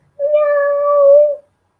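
A cat gives a single clear, drawn-out meow, close and loud against silence.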